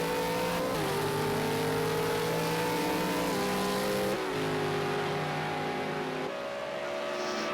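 V8 Supercars race cars accelerating on the Ruapuna Park circuit, loud engines climbing in pitch through repeated upshifts with brief drops between gears, sustained and close with constant roar.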